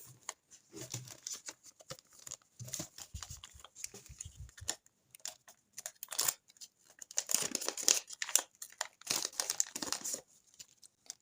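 Thin paper surprise packets being opened by hand, giving irregular bursts of crinkling, tearing and rustling close up at a quiet level, with no talking.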